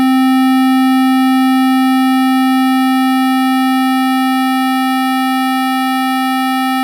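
A Mutable Instruments Kinks module puts out a steady low sine-like tone with bright harmonic partials stacked above it, sustained and alone, slowly fading in level over several seconds.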